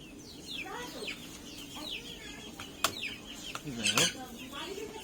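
Chickens cluck and chirp nearby in a village yard while they are being fed, several short quick calls scattered across the moments, fairly soft, with a few clattering knocks.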